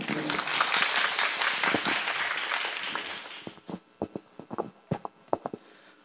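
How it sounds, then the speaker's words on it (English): Conference audience applauds a session moderator being welcomed: dense clapping for about three seconds, then thinning to a few scattered, sharp claps. "Let us welcome the Honorable Justice Tang De-zong to be the moderator of this session with great applause."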